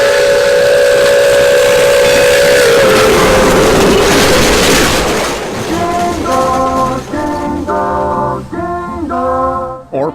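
A steam locomotive sounds a long loud whistle over hissing steam, then a series of short repeated whistle blasts as the train works under full steam through a small Michigan town.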